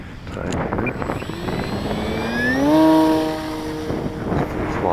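An Eflite Carbon-Z Cub SS electric RC plane, 2.1 m wingspan, runs its motor up to full throttle outdoors, a rising whine that swells and peaks mid-way before easing, heard against wind.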